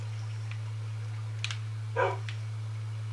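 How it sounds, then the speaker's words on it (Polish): Minecraft dogs in a game on Xbox give a short bark and a brief yip. The sounds are faint and sparse over a constant low electrical hum, with no speech. "Może zobaczyć, co się dzieje z moimi psami."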